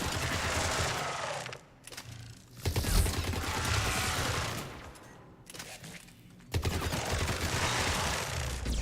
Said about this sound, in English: I'm just going to sit in cover and shoot it normally